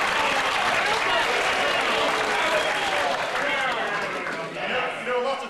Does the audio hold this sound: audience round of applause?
yes